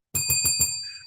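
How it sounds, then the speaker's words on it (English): A bicycle bell rings in four quick, bright strikes with a short shimmering tail, loud and close with no talk over it. "Let me let this bell go."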